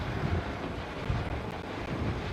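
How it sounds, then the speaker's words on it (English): An HAL light utility helicopter flies in a display at Aero India 2023 in Bengaluru, a dense, steady roar of engine and rotor noise with buffeting wind on the microphone. "HAL is extremely proud to present here in display its youngest and latest member of the growing helicopter family."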